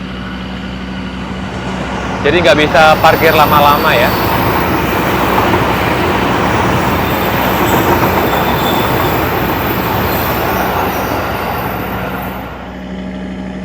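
A KRL commuter train passes through a Jakarta station, a close, steady metallic rumble with a burst of wheel squeal early on, fading toward the end while a person speaks over it.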